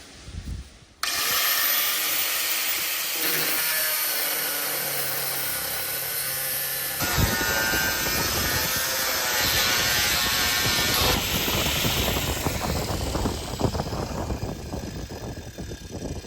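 An angle grinder cuts through rusted fridge bolts underneath a 1975 Viscount vintage caravan during a strip-down, a loud continuous metallic whine and grinding roar that shifts pitch as the disc bites, close and alone.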